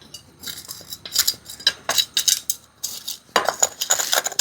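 Loosening the top layer of potting soil in a bougainvillea pot with a metal tool gives a series of close, dry scraping and scratching strokes in irregular bursts, with no talking.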